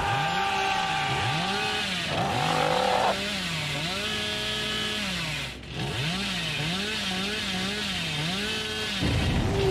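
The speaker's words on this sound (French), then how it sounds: "le bruit de la tronçonneuse, c'est un bordel en vrai" Hillbilly's chainsaw from the game Dead by Daylight, its motor revving up and down in repeated loud, wavering surges that run almost without pause.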